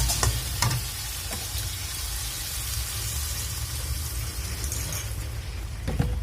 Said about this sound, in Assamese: ভাজিকণ এতিয়া লৰাই দিওঁ